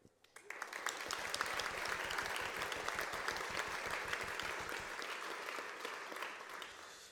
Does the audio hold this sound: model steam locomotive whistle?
no